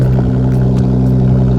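On a cold start, a Toyota Mark X with a custom exhaust idles steadily, giving off a low, even rumble, moderately loud and close with no voices.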